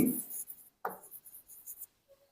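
Pen or marker scratching out a sentence by hand during an English grammar lesson, in two short quiet bursts of strokes separated by a brief pause, close and alone.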